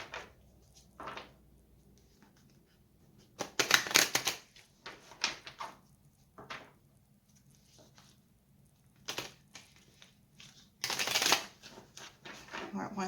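Tarot cards are shuffled in short bursts of crisp riffling, separated by pauses, close and fairly soft, with a quiet voice speaking in between.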